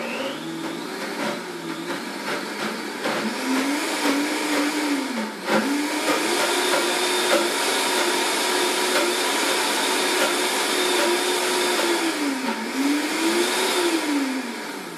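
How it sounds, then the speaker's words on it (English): A Vitamix blender churning a thick fat bomb mixture, a loud close motor whine that holds steady for the whole stretch, its pitch sagging and recovering a few times as the blades labor through the dense blend. "So I'm just going to use the Vitamix here and blend."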